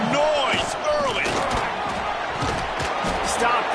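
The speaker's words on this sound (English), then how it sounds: "This crowd bringing the energy and noise early." A college football stadium crowd in Tennessee roars and cheers early in a game, a dense continuous wall of voices with scattered shouts and whistles, loud and sustained throughout.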